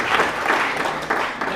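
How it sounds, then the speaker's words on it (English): Brief round of applause from the audience closing an awarding ceremony at a university swearing-in and handover, dense clapping from a room full of people, steady and fairly loud across the short stretch. "a round of applause for everyone, please."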